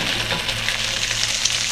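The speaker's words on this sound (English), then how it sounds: "Woo, did you hear that sizzle?" Drained ramen noodles hit a hot wok and fry with a steady, bright sizzle, close and even throughout the short stretch, with no voices.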